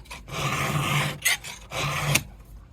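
Hand file rasping along the teeth of an Alpina Prof 90 chainsaw chain, two long scraping strokes with a brief metallic scrape between, close and fairly loud.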